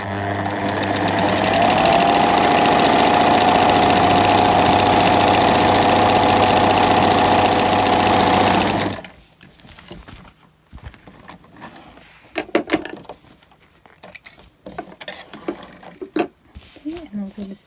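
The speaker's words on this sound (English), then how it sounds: "now I'm going to do a zigzag stitch" A sewing machine stitches a zigzag seam on fabric scraps for a small eyeglasses case. It whirs steadily and loudly for about nine seconds, then stops, and quieter handling clicks and rustles follow.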